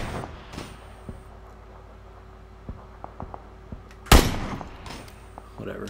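An SKS rifle fires in PUBG, heard as one sharp, loud gunshot burst late in the clip over a quiet background scattered with faint distant clicks and pops.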